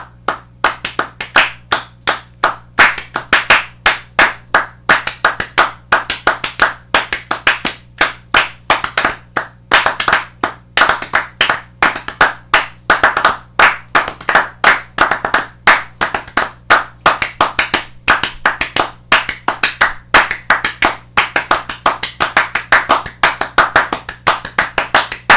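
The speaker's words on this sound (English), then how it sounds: "I'm gonna clap something else, and I'm gonna create a rhythm on top of that" Sharp hand claps repeat loud and close in a steady, fast rhythm for about twenty-five seconds, with small accents over an underlying counted beat and a faint low hum behind them.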